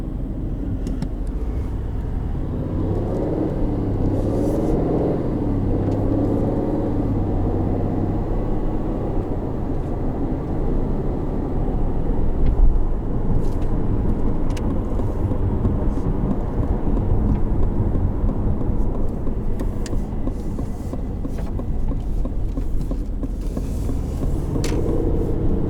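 A 2020 Aston Martin Vantage drives at speed, its steady engine rumble and road roar filling the cabin continuously with slight swells, heard from the driver's seat without talk.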